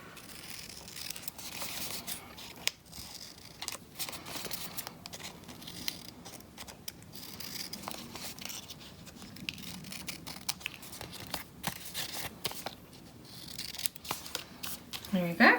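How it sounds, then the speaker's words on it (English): Scissors snip and trim a paper bookmark in a run of small crisp cuts with light rustling, close by, over a quiet background. "I might use different scissors actually for the trim."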